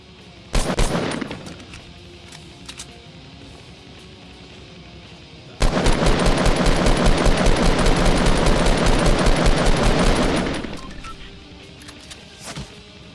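Video game gunfire as a base is attacked: an opening burst, then a long sustained stretch of rapid automatic fire lasting several seconds before it cuts off, loud and close.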